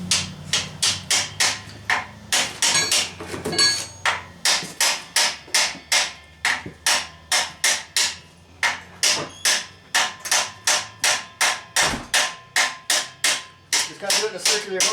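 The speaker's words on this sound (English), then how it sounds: "a little bit of hammer action here" Metal hammer blows drive a new replacement bearing into a GM 14 bolt axle, a steady run of about thirty sharp, close, loud strikes at a quick even rhythm with a brief pause near the middle.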